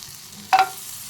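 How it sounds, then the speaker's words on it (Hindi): Cashews dropped into hot butter in a pan, a single short burst of sizzling and stirring up close. "काजू भी डालेंगे इसमें, थोड़ा फ्राई करेंगे इसको।"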